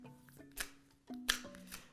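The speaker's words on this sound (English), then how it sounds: "Now for shuffling the cards." Adinkra oracle cards being shuffled by hand, quiet and close: a few soft papery riffles and slaps in short bursts with faint tonal background hum between them.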